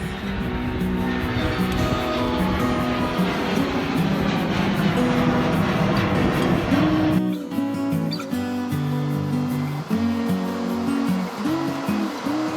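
A loud, steady jet engine roar fills the scene, a broad rushing drone with shifting tones as a CRJ-900 passenger jet powers up and accelerates for takeoff.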